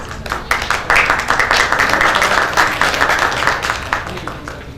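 Audience applause after a medical talk at a Kartini Day event: close, loud clapping with distinct individual claps in a brisk, uneven rhythm.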